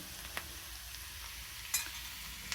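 Drumstick and brinjal curry frying in a pan, a steady low sizzle throughout with a few brief stirring clinks, close and fairly quiet.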